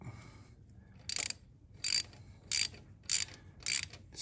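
A ratchet clicks in five short, sharp bursts while snugging a 9/16 bolt on a Harley-Davidson motor, each burst close and crisp against a quiet workshop background.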